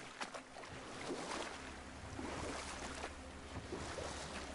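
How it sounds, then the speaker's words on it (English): Rowing a boat across a lake in the video game God of War, soft oar strokes and water splashes recurring about once a second over a low wind and water bed, no talk. "I'm going to row the boat gently down the lake."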